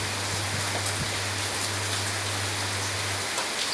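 Heavy rain pours down in a steady, dense hiss that never lets up, with a low constant hum running underneath and no voices.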